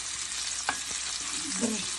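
Meat frying in a pan for a traditional Kazakh dish, with a steady broadband sizzle throughout and a couple of brief stirring or turning scrapes, close and fairly loud, with no talking.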